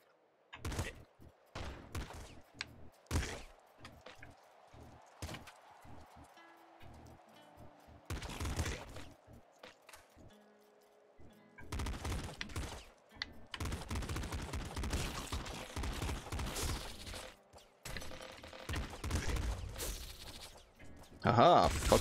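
Rapid bursts of laser pistol fire in the top-down shooter Nuclear Throne, arriving in clustered volleys with gaps between, mixed with other game effects and some talk.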